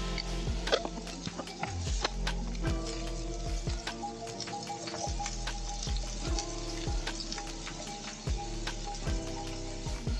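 Red onion fries in a pan in a camper van kitchen, giving a soft, steady sizzle broken by frequent sharp clicks and taps of a utensil against the pan, fairly quiet and close with no talking.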